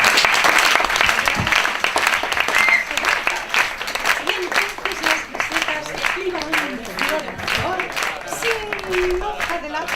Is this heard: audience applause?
yes